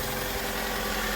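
A 1996 Mitsubishi Mirage Asti ZR engine runs with its air intake removed, giving a close, steady, rough idling drone with an even mechanical rumble throughout the short moment.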